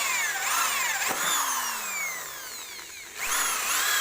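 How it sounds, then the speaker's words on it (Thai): A power drill boring screw holes into an electrical control cabinet, whining motor rising and falling in two drilling bursts with a short pause between, close and steady. "เราก็จะนำไปทำการเจาะรูเพื่อที่จะยึดสกูยึดน็อตนะครับ"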